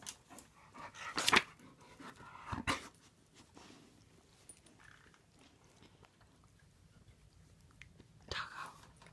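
A dog licks a paper sketchbook up close, with wet slurping, panting and mouthing sounds in irregular bursts, louder at the start and near the end.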